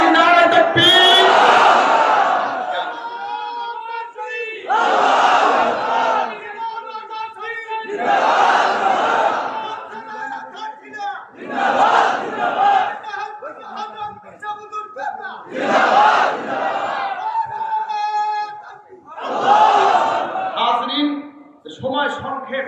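A large crowd at a religious gathering shouts takbir in repeated call-and-response bursts, a lead voice calling and the massed voices answering loudly in a steady rhythm, about six rounds.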